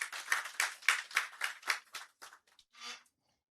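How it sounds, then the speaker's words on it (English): Applause from an audience at a construction and real estate outlook event, brief scattered claps in bursts that taper off within a few seconds, moderately near and fading to silence. "So please let's give them a round of applause."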